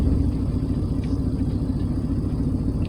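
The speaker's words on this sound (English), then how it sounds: "You can hear the engine accelerates. See, when the compressor kicks in." Chevrolet Silverado engine running steadily close by, a constant low rumble with the pitch lifting slightly as the air-conditioning compressor engages, no talk over it.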